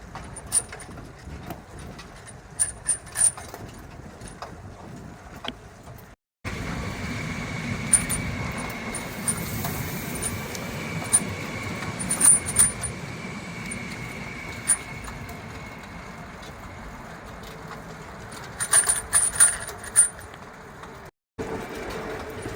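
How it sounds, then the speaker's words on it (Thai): A continuous rumbling roar of a train passing alongside a cycling route near the bridge to Venice, Italy, steady and moderately loud, with scattered high metallic squeaks and clicks. "การแข่งกับรถไฟ ค่ะทุกคน"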